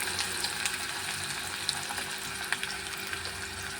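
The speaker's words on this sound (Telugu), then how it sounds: "ఆయిల్ అయితే వేడెక్కింది కదా ఉల్లిపాయలు వేసుకొని ఫ్రై చేసుకుందాం బాగా" Onions frying in hot oil: a steady, dense sizzle with occasional soft pops and crackles, close and even throughout, no talking.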